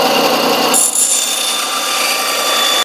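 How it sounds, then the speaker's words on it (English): A bandsaw trims a wooden wedge for a Newfoundland logger's axe handle, giving a loud, steady, close-up whine of the blade biting through wood for nearly three seconds before cutting off abruptly. "This bandsaw is really nice, I tell you."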